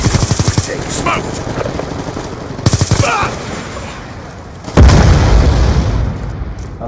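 Gunfire in the video game Call of Duty: Black Ops II, rapid machine-gun bursts and a heavy boom near the end, loud and close over game background noise.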